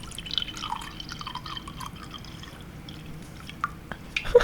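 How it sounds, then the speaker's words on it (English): Tea poured into a cup, a light trickle with small drips and splashes, faint and close, followed by a few louder clinks near the end. "The crispiest pour you've ever heard."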